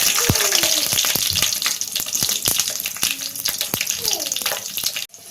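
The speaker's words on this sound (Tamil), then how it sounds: "எண்ணெய் சூடாயிடுச்சு. இப்போ கடுகு சேர்த்துடலாம், கருவேப்பிலை சேர்த்துடலாம்," Garlic with mustard seeds and curry leaves sizzling in hot oil for fish thokku, a loud continuous crackle dotted with sharp popping spits, until it abruptly quiets at the end.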